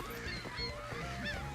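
Seagulls squawk in a Barbie beach waterpark video game, a cluster of harsh, honking cries repeating closely over a steady game background.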